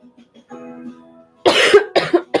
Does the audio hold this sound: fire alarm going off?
no